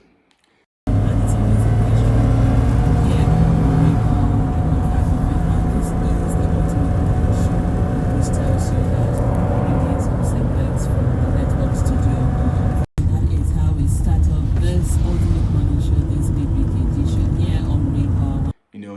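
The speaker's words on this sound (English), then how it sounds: "So this is my dad driving me to camp." Steady engine and road rumble inside a moving car on the drive to camp, loud and continuous, with a brief dropout near the end and no clear talk over it.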